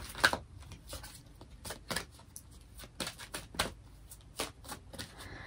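A deck of tarot cards is shuffled close up in quick repeated riffles and soft slaps, in an uneven rhythm of short crisp bursts with quiet gaps between them.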